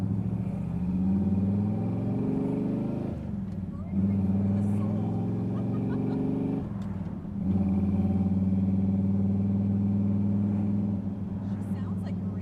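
Freshly built car engine on its first drive, droning loudly and steadily with brief dips between gear shifts, rising again as it pulls; people talk over it in the cabin.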